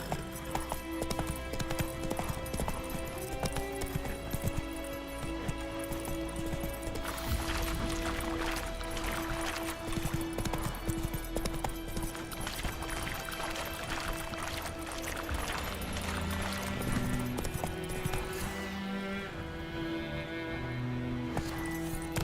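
Hoofbeats of a horse galloping in The Witcher 3, a steady rapid clip-clop rhythm running throughout under game music and ambience, with a brief neigh; loud and close, no talking.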